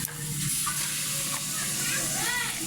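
Chicken meat added to fried spices for a potato and chicken curry, giving a loud, close, continuous sizzle and hiss with light stirring and no talk.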